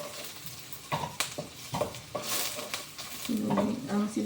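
Garlic frying in a pan for chicken curry, a close sizzle broken by repeated stirring scrapes and spatula knocks against the pan, with a brief murmur of voice near the end.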